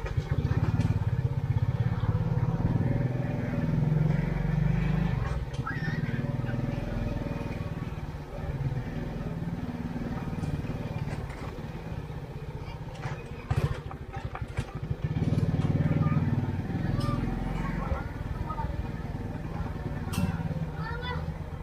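A motorcycle engine rumbles steadily throughout, a continuous mid-pitched drone with slight rises and falls, close by, occasionally joined by faint clicks.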